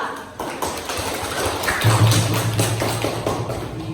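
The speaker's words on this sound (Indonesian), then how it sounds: "Beri aplaus untuk kelompok 2." An indoor audience gives a dense burst of clapping for a student group after its performance at a dance class session. The claps run fairly loud and steady for several seconds, with no speech.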